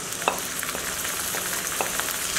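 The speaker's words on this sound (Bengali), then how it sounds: "মশলাটা আমি একটু ভালো মতো কষিয়ে নিই।" Ginger-garlic paste, salt, chili and turmeric powder sizzle in hot oil for olive pickle, a steady close frying hiss with occasional soft spoon scrapes as the spices are stirred.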